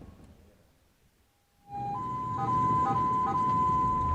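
An ambulance siren starts abruptly partway through, a loud, steady, close wailing tone with slight pulsing, over engine and road rumble.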